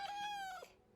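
Ocelot death sound from Minecraft Bedrock, a single short, high, tonal meow-like cry that slides slightly downward and fades within about a second.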